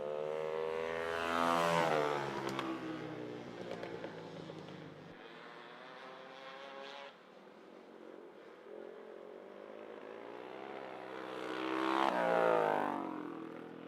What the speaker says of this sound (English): Love to see these vintage bikes out here.